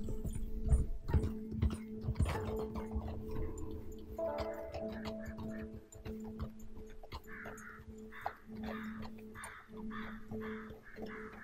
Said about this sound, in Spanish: Tengo que controlar mi caballo